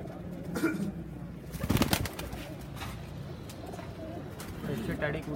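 Pigeons coo in their cage, soft repeated low cooing with some rustling and a brief louder flutter near the middle, while someone talks over them.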